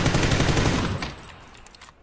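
Rapid automatic gunfire in the PUBG battle royale video game, a loud close burst of fast repeated shots for about a second that then trails off into fading echoes.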